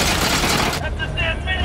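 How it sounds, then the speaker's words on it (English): Gunfire from the 1991 film Terminator 2 erupts as a dense, loud burst for nearly a second, then gives way to a quieter tonal ringing backdrop. "You're just opening fire."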